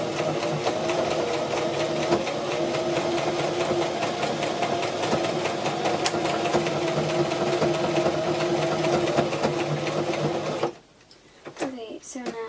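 A Brother LS14 sewing machine stitches glove fabric, running with a steady mechanical whir for about ten seconds, then stopping abruptly, followed by a few quieter handling sounds.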